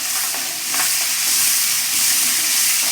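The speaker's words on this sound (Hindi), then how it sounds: "मसाला डालकर हम इन दोनों को फ्राई करेंगे ताकि मसाले की जो स्मेल है वो ख़त्म हो जाए।" Onions and spice masala fry in hot oil for a chicken korma, a steady, close bright sizzle with soft stirring scrapes, no voices.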